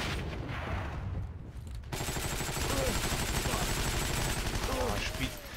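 Rapid gunfire in the online shooter Heroes & Generals, a steady rattle of automatic shots that grows louder after a brief lull and continues to the end, at moderate level.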